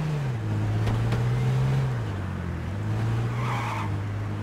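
Cars on a road in the H1Z1 video game give a steady low engine drone throughout, with a brief tire skid mixed in, heard alone without talk.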